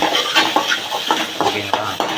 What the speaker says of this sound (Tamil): வெங்காயம் தக்காளி போட்டு நல்லா வதக்கணும்.